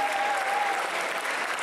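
Steady applause from an audience at a cosplay convention awards ceremony for the best original costume winner, continuous and fairly loud throughout with a brief whistle-like tone early on.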